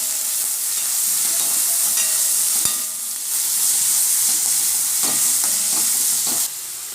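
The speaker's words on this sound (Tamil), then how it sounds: "இப்போ நம்ம வெங்காயம் போட்டுக்கலாம்." Onions sauté in hot oil, sizzling and crackling steadily, a close, continuous frying hiss with occasional stirring clinks.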